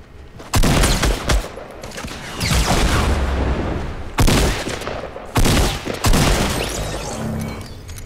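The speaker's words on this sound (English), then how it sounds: "I think I hear shots like west." Loud bursts of gunfire in the video game Fortnite come in several rapid volleys with short pauses between them. The shots sound close and booming, with no talk over them.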